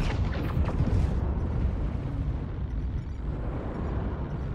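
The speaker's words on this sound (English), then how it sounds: "Artillery strike online." An artillery strike in the MechWarrior Online video game rumbles through deep, booming explosions that roll and decay over a few seconds, loud at first and then fading into a low continuous rumble.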